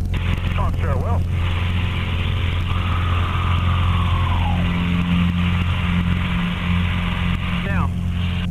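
Light aircraft engine drones steadily and loudly at close range for the whole stretch, with voices talking briefly over it near the start and end.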